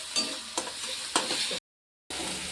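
Green chillies frying in oil over a low flame for a Maharashtrian vada curry, a soft steady sizzle punctuated by three stirring scrapes, broken by a brief silent gap.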